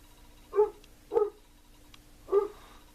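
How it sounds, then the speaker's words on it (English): A dog barks three times in the background, short muffled woofs spaced about half a second to a second apart, faint and somewhat distant in a quiet room. "if you hear my dog in the background"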